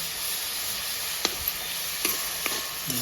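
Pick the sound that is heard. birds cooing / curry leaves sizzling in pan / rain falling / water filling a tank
curry leaves sizzling in pan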